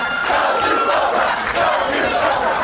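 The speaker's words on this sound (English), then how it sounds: "the crowd reacts with a "Go to Oprah" chant." A studio audience at a rowdy talk show chants and shouts together in a loud, rhythmic crowd roar that fills the short span without any single voice standing out.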